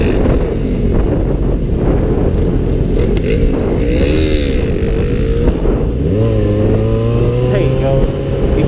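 A motorcycle engine revs hard in first gear, its pitch climbing and then holding high near the end, loud and close with heavy wind buffeting and people talking over it.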